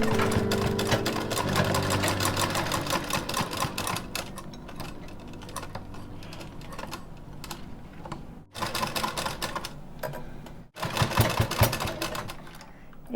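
A sewing machine stitching a small ghagra for a Laddu Gopal idol runs in a fast, steady mechanical chatter at close range, stops briefly twice and then starts again.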